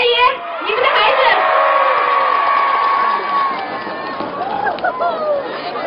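At a Lahu village Fulu festival, a crowd greets a young singer with loud, sustained cheering and shouting, children's voices prominent, rising and then thinning toward the end.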